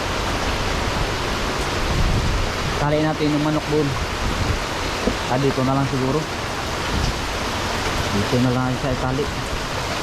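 Heavy typhoon rain pours down in a dense steady hiss, loud and close throughout, while someone speaks briefly over it.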